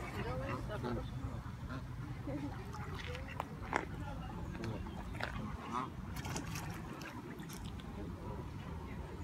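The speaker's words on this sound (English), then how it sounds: "we have some ducks and other birds as well, different types of ducks" Ducks of different types quacking with other birds among a busy outdoor waterside din, with a person talking over the birds.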